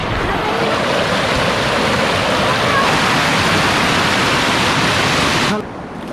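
Steady broadband rush of a waterfall pouring into a cold-water stream in Khon Kaen, loud and continuous for several seconds before dropping off abruptly near the end.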